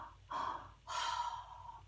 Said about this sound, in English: it's simply a two-part breath where we take in a full